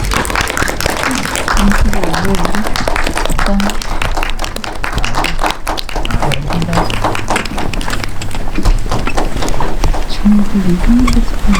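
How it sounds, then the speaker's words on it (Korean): An audience at Daehan Cinema claps to welcome a film's director and four actors, loud, dense applause running throughout while people talk underneath. "정재광 배우님, 유규상 배우님, 송희재 배우님, 최희승 배우님까지 5분 박수로 모시도록 하겠습니다."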